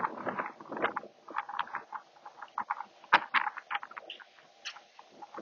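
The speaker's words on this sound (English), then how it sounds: "the rain is starting to come in" Rain begins pattering during an approaching storm outside near a porch, a scatter of irregular light drops and taps close by, with one sharper tick midway, no voices.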